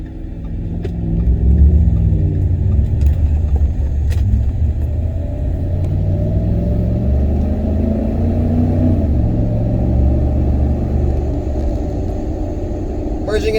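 A 2010 Ford F-150 Harley-Davidson pickup truck drives and speeds up while merging into traffic, its engine drone and road rumble steady and close inside the cab, with a voice talking over it.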